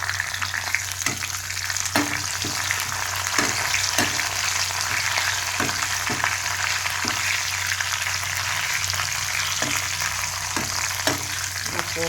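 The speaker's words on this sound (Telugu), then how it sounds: "కరివేపాకు వేసుకోవాలి, చూసుకోండి పేలుతాయి" Curry leaves crackle and splutter in hot oil, a dense continuous sizzle dotted with irregular sharp pops, loud and close throughout.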